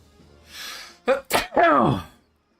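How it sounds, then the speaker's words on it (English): A single close, sharp sneeze with a quick breathy intake, preceded by a soft hiss, in Final Fantasy X-2. "Why did I sneeze?"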